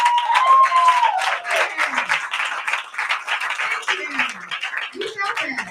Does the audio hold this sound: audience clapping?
yes